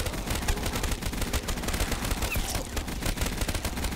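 Rapid sustained bursts from a Browning machine gun in Call of Duty Zombies, a dense rattling stream of shots that fills the whole stretch with no pauses.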